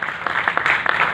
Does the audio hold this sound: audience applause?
yes